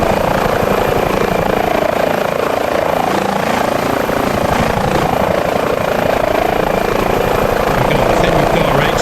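A Chinook helicopter in Microsoft Flight Simulator gives a loud, close, continuous rotor drone with a rapid rhythmic blade thump running underneath for the whole stretch.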